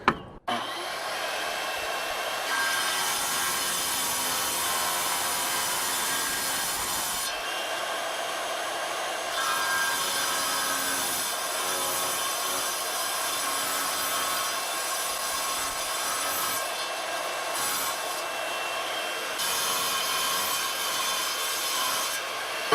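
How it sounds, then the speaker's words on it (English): A RIGID 7-inch wet saw cuts through tile with a steady, loud, buzzing grind that runs without a break for over twenty seconds, shifting slightly in pitch as the blade bites. No one speaks. "So let's see if we can get this out with the saw."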